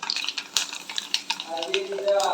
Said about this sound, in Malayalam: കടുക് പൊട്ടിത്തെറിക്കുമ്പോൾ നമുക്ക് നമ്മുടെ വറ്റൽ മുളകിനെ ഇട്ട് കൊടുക്കാം.